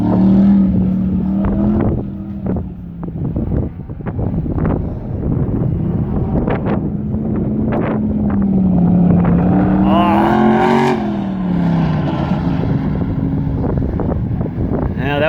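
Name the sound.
Classic Muscle race car driving a timed lap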